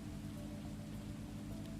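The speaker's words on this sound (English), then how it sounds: "Rally Kenya in the rain. Worst rain effects since PlayStation 2." Steady, dense rain hiss from a rally video game's Kenya stage, a constant wash of falling drops with a low engine-like drone beneath, continuous and even throughout with no talking.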